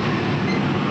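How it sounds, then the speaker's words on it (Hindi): A passenger train hauled by a WAP 7 electric locomotive rushes past close by, a loud, steady roar of wheels and rail noise filling the whole moment without any voices. "हम लोग ओवरटेक कर रहे हैं न्यू दिल्ली मंडवाड़ी सुपरफास्ट एक्सप्रेस को।"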